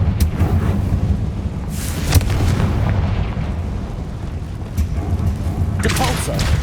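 Explosive Confringo spell blasts from the Hogwarts Legacy video game boom repeatedly over a dense, loud rumble of game combat, with sharp bursts near the start, middle and end.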